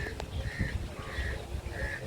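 Several bird calls ring out in short repeated bursts at a moderate distance, faint and outdoors, with a soft low background murmur.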